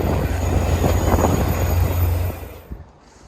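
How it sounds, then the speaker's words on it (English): A train bound for Montreal rumbles past with a steady heavy roar and wheel squeal, near and loud, then fades away quickly at the end; no one talks. "And there goes the train to Montreal."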